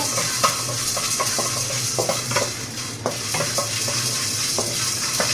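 Black peppercorns are dry-roasted in a pan for idli podi, with repeated rattling stirs and scrapes of a spoon over a constant hiss. The sound is close and fairly loud, with a quick rhythmic pattern and no talk.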